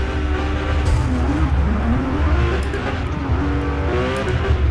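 A high-revving Porsche race car engine roars in a night race in the Forza Motorsport 2023 racing game. The loud, continuous drone climbs and drops in pitch through gear shifts, with hints of tire squeal.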